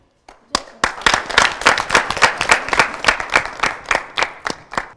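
A French youth debate show audience claps to welcome a guest: a few scattered claps, then a lively burst of distinct, crisp hand claps that carries on steadily to the end.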